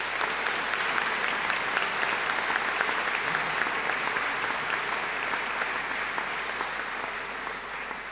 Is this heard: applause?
yes